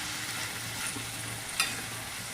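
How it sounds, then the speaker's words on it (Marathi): Potato bhaji frying in a pan is stirred, giving a quiet, steady sizzle with a faint scrape of the spoon and one brief clink. "याला मस्त असं हलवून घ्यायचं आपल्याला."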